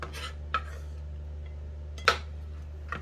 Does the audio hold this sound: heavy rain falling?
no